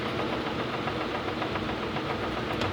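A 1948 Logan 200 metal lathe takes a light cut, giving a steady, dense mechanical drone with fine grinding texture and a faint rhythmic knock, continuous and fairly close throughout.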